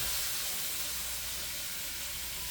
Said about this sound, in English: this olive oil is percolating everywhere